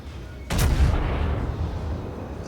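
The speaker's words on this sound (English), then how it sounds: "There comes another salvo in on him." A naval artillery salvo from a warship in World of Warships booms in one heavy, loud blast, followed by a long rumbling decay.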